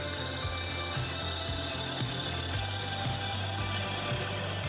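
Wood lathe spinning steadily while a tool parts off a turned Christmas cracker box, a constant hum with a regular low thump about once a second and a bright, continuous cutting hiss, close and fairly loud.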